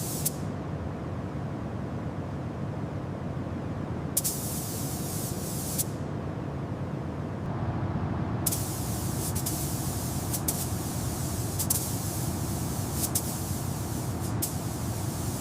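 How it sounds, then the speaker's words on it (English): Steady hiss of a detail spray gun painting a Soviet R-142 mobile communications vehicle in an underground bunker runs throughout, cutting in and out in bursts against a constant low background hum. "Technicians use detail spray guns to paint difficult areas around hinges, vents, wheel arches"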